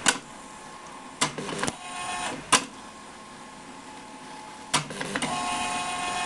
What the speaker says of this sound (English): This printer actually uses a thermal kind of ribbon, so it kind of like burns it directly onto the paper.